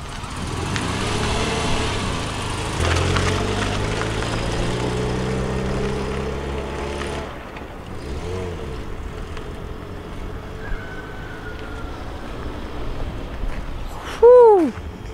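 A Toyota KE70 drift car engine runs close by, a loud rumble with rising and falling revs and passing vehicle sounds, fading to a softer idle near the end.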